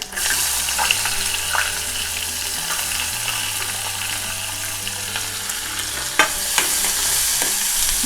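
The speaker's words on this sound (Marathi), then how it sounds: "तेलावर चांगली लसूण परतून घ्यायची आणि लसूण जरा थोडीशी अशी गुलाबी होत आली की आपण कांदा घालायचा आहे" Garlic and onion fry in oil with dried fish, a strong continuous sizzle close by, broken by a few spatula scrapes and clicks, with a low hum under it and no speech.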